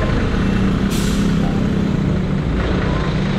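A PO Royal Marine bus engine, just warmed up, rumbles loudly as it is moved, with a heavy steady low drone and a sharp hiss of air brake release near the start.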